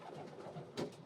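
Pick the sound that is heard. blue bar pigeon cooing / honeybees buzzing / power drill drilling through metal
blue bar pigeon cooing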